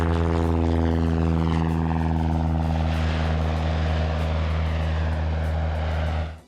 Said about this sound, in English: G2 hired a literal plane to fly a banner that said Sentinels on it